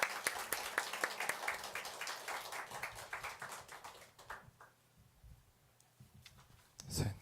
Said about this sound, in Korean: 우리 선교사님을 환영하는 마음으로 또 큰 박수로 한번 환영하도록 하겠습니다